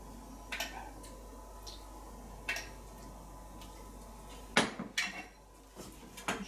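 Starch mixture being stirred in a pot off the heat, a spoon clinking and scraping against the pot in scattered sharp knocks over a quiet background hum.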